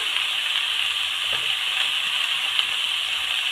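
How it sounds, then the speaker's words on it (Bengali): Vegetables frying in a pan with turmeric and salt, producing a steady, close sizzling hiss with a few faint clicks and no voices. "হলুদ লবণ দিয়ে সব সবজিগুলো খুব ভালো করে ভেজে নেব"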